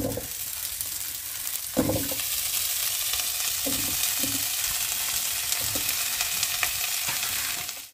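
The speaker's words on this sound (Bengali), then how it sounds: "গরম হলে এঁচোড়গুলো আমি দিয়ে দেবো। প্রথমে লাল লাল করে একটু ভেজে নেব।" Young jackfruit pieces fry in hot mustard oil in a wok, giving a loud, steady sizzle broken by a few stirring scrapes, with no talk.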